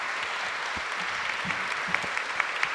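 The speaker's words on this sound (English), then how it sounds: "Can we please give a round of applause to this wonderful panel?" Audience applause for a climate politics forum panel, a steady dense wash of many hands clapping at moderate distance, with a few sharper individual claps near the end and no voices.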